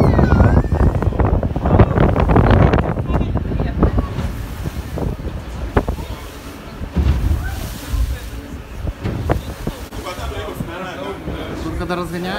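Wind and sea waves buffet a moving boat in the harbour at Port El Kantaoui, Tunisia, a steady rushing roar with gusty low rumble, while someone talks over it throughout.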